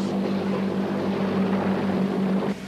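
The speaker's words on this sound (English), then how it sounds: "here comes the target plane now" A target plane approaches during a naval test, a steady loud droning engine roar with a constant low hum that holds evenly throughout, alone without talk.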